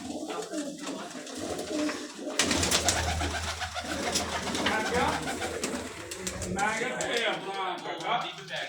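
Plain pigeons coo softly and repeatedly close by at a pigeon club, mixed with bird chatter and rustling, while a person talks over the sounds.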